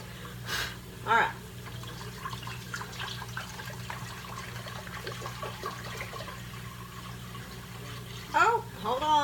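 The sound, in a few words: filling a cooking pot with jug water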